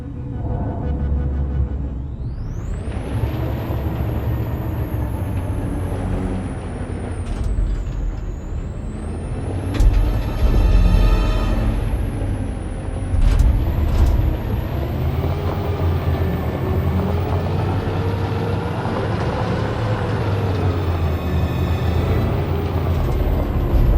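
Heavy truck in Detroit: Become Human, its engine rumbling loudly throughout with shifting whining pitch and sharp hissing bursts from the air brakes, steady and close with no voices.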